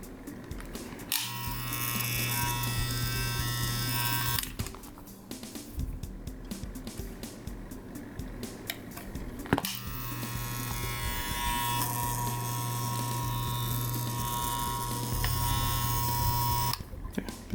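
An Andis Master hair clipper runs after a motor replacement, giving a steady loud electric buzz that stops briefly and restarts, with faint mechanical rattles and handling clicks between runs.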